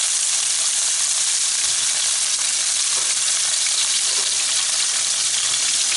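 Beef sizzling and browning in a hot pan, a steady loud hiss of frying with no pauses.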